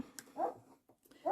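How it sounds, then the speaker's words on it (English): A dog whimpers softly in the background of a quiet sewing session, giving two short, high whines about a second apart. "excuse the dog in the background"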